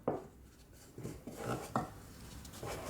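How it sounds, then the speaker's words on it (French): Nutella and one other ingredient worked into a modelling dough by hand, giving soft, irregular thumps and squishes at close range, with a few sharper pats standing out among quieter handling noises and no talk. "Là, je peux commencer déjà mon pétrissage à la main."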